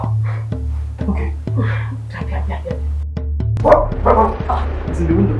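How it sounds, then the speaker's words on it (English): Dog barks come in short repeated bursts from somewhere off in a house, heard under steady people's talk and a low hum, with the barking growing busier toward the end. "Do you have a dog in your house?"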